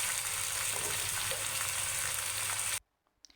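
Potatoes fry in a pan as a quiet, steady sizzle that cuts off abruptly near the end, leaving near silence.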